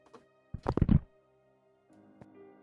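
Dice rolled for a tabletop roleplaying game clatter in a short burst of knocks and thuds, then settle, followed by quiet room hum and a single faint tap.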